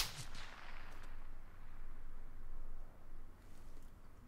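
Gunfire in the battle royale game PUBG, a sharp loud shot at the start whose crack decays into a long rumbling echo over steady low background noise, no speech.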